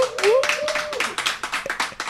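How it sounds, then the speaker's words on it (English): A small live studio audience at a DJ academy claps, scattered individual hand claps running steadily under a voice that speaks at the start. "Give yourselves a round of applause again."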